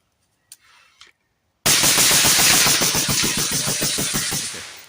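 A CMMG rifle fitted with a ZEROED .30 cal K-Can suppressor fires a fast continuous string of shots, loud and close, as a rapid even pulsing that fades slightly toward the end after a brief quiet moment.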